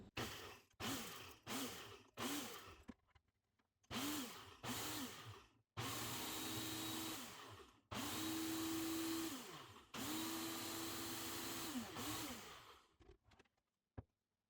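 An electric grinder pulverizes dehydrated green onions into powder in a series of loud whirring bursts, short pulses at first and then longer runs, with pauses between them.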